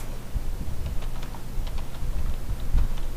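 Code typed on a computer keyboard, a quick close run of light irregular key clicks with a brief pause, no talking.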